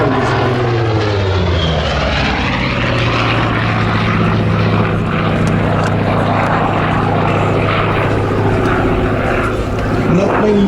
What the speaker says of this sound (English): a granddaddy who straps up in a Bearcat and pulls up 7 and 8 Gs at 350 miles per hour